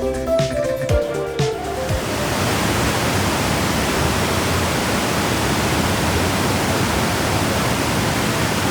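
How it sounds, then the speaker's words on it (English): Iguazú Falls thunders as a loud, continuous rushing roar of falling water; brief talk and movement at the start give way to the unbroken waterfall noise. "we got to the waterfall part, which is what we came for"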